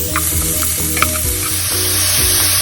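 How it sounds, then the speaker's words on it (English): Shallots fry in a pan for shrimp fried rice, a loud continuous sizzle broken by repeated rhythmic scrapes and taps of a spatula stirring. "2 cups of shallots. Cook for 1 minute."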